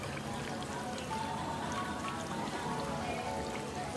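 Water trickles steadily in a small decorative indoor fountain on display at a garden centre. The soft, continuous splashing stays faint throughout.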